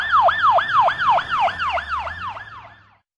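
A cartoon ambulance siren wails in rapid, repeating rising-and-falling sweeps, loud and close, then fades out at the end with no one talking.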